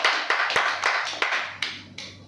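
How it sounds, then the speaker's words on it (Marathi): A group of women claps loudly at a shop's prize-draw event, giving several sharp, separate bursts of applause in uneven rhythm, close and clear with no talk over them. "महिला जोरदार टाळ्या वाजवू द्या"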